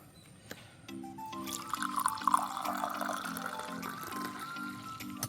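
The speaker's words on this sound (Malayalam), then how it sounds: "ഒരു കട്ടൻ ചായ നമുക്കൊന്ന് ഒഴിക്കാം കേട്ടോ" Black tea poured steadily into a cup, its pitch rising gently as it fills, with a faint repeating hum underneath.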